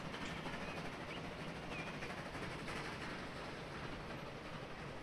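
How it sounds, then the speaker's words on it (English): A steady rolling rumble of a train on rails fills the scene in Transport Fever 2, even and unbroken for a few seconds, with faint clicks of the wheels and no talk. "Oh, look, it's a train."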